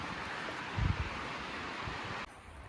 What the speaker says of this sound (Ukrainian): І вітер дуже сильний.